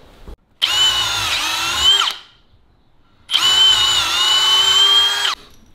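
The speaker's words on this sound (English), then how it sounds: "drill those holes through the 2x4" A power drill whines in two sustained bursts with a short pause between, its pitch shifting slightly as it bites through a wooden 2x4, loud and close.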